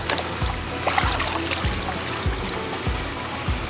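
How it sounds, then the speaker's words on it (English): Water runs and trickles off a polycarbonate dome housing, a steady splashy wash broken by soft, regular sloshing thumps roughly every half second, with no talking. "The water's running off pretty good."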